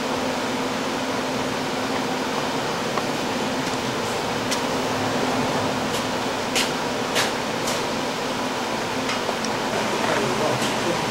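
A bias sewing unit with tensionless auto unwind runs with its variable-speed upper and lower rollers, giving a steady, dense mechanical whir with occasional light clicks throughout.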